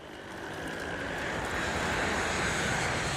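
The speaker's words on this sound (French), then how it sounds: "Le vol 401 d'Eastern Airlines survole bruyamment leur position." An airliner, Eastern Airlines Flight 401, roars low overhead above the Everglades at night, a broad steady engine rumble that swells over the first second and stays loud to the end.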